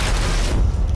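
A single heavy sniper rifle shot in the Sniper Elite 4 video game, a loud booming blast with a fading rumble that dies away within a second.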